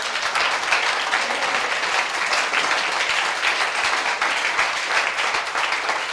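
A church congregation at a Sunday worship service applauds, a dense, continuous wash of many hands clapping that holds steady and loud throughout.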